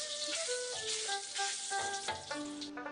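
A spoonful of salt goes into hot oil in a pan, raising a steady hiss of sizzling under loud melodic music.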